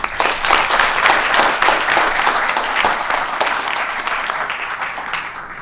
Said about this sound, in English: So round of applause and thank you to Casey.